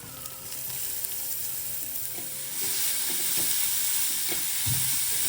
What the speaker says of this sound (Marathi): आपल्याला सगळ्या भाज्या मोठ्या गॅसवरच म्हणजे मोठ्या फ्लेमवरच फ्राय करून घ्यायच्या आहे